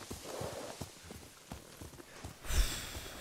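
Soft, rhythmic hoof clops of a walking horse in Ghost of Tsushima, quiet and evenly paced, ending with a louder breathy snort or rustle.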